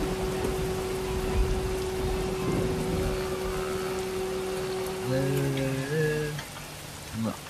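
Steady rain patters in Euro Truck Simulator 2 as a truck drives along, a constant wash of drops with tonal engine and wiper-like hums rising and shifting near the end.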